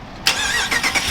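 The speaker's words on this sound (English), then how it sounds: "That Hemi V8 roars to life." The Hemi V8 in a 2021 Dodge RAM 1500 Rebel Crew Cab pickup cranks and fires up, bursting into a loud, close engine roar that surges twice before settling toward idle.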